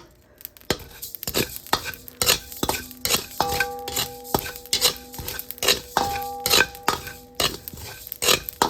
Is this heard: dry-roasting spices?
yes